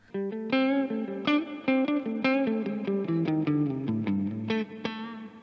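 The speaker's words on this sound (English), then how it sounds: "And this is what it sounds like coil tapped." Coil-tapped neck pickup on a 2019 Gibson Les Paul Standard, in single-coil mode, plays a bright run of plucked notes and short phrases, close, steady and slightly quieter, with no voices.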